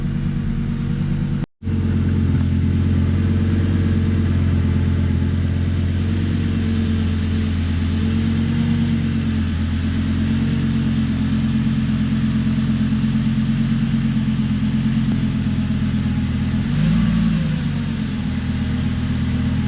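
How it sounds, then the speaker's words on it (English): Lamborghini Gallardo engine idling around 1,100 RPM with a Sprint booster installed, a steady deep rumble broken by a sudden throttle blip that briefly swells the note, alone and close. "all of a sudden you'll get these random throttle blips for no reason"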